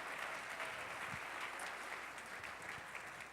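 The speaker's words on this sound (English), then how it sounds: "let's give another round of applause to those performers" Sustained applause from an audience at a Martin Luther King Jr. Day celebration, honoring the performers just heard, a steady wash of many hands clapping at moderate distance for the whole stretch.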